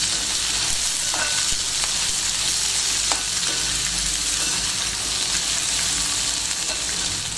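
Onions fry in a pan for tomato chutney, giving a steady close sizzle with a broad hiss and a few faint scraping stirs, constant in loudness and without speech.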